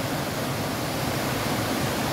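Rushing water at Rebihas Falls, a steady, loud, broadband roar that fills the whole short stretch without any voices.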